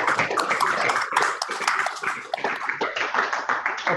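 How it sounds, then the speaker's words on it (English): Lively audience applause for a panelist at a Great October Socialist Revolution conference, a dense, bright rattle of many hands clapping close and loud, steady for several seconds. "A round of applause for the last panelist."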